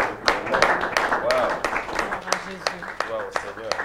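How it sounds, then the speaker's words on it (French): Scattered clapping with sharp, irregular hand claps mixed with voices and cheering from a church congregation. "Pourquoi ne pas applaudir pour notre Dieu?"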